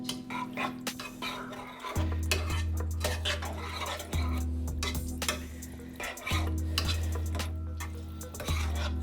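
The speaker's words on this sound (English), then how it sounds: "And we're gonna go ahead and mix all that together" Utensil scraping and clinking against a pan as spaghetti sauce with smoked sausage is stirred together, repeated rhythmic strokes over a low cyclical hum, close up with no talking.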